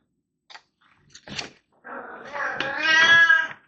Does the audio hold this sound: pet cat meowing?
yes